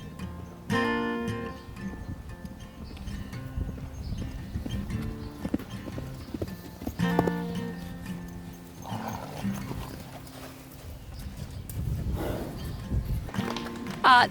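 Peppy the horse walking, steady hoof clip-clops at moderate distance with occasional louder steps and background movement, no talk over it.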